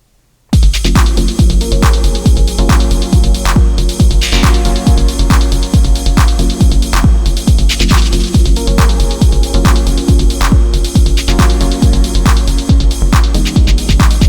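A loud dawless hardware synthesizer and sequencer setup starts after a brief silence and repeats a steady throbbing pattern of pulsing bass and layered tones.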